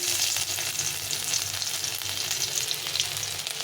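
Ginger, dried red chilli and bay leaf frying in hot oil to temper dal: a steady, dense sizzle with light stirring, close and constant throughout.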